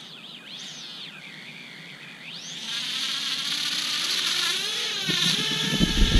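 Small drone motors spin up on unbalanced NBD candy propellers, giving a thin, high whine that wavers in pitch and then swells into a louder, steady buzzing drone near the end.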